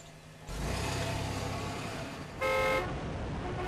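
Car horns honk amid steady traffic rumble, a long held blare followed by a louder, brighter second toot over the continuous engine noise.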